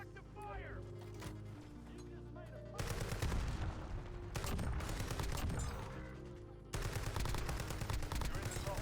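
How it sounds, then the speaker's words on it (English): Dense bursts of automatic gunfire from a shooter video game rattle almost continuously, loud and close, with sharp changes in intensity between volleys. "Taking effective fire."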